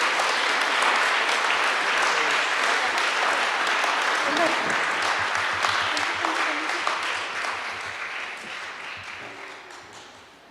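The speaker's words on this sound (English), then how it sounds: "Can we have a round of applause for all of these inspiring individuals?" Audience applause for honorees standing on stage at a World TB Day recognition ceremony, a dense, steady wash of many hands clapping in a large room that holds strong for most of its length, then slowly thins and fades toward the end.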